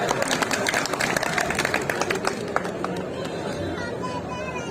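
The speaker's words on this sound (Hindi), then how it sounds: "जोरदार तालियां बजाइए आशीष" An audience at a Hindi poetry recital in Nimbahera breaks into sustained applause, a dense wash of many hands clapping with crowd chatter mixed in, loud at first and easing slightly toward the end.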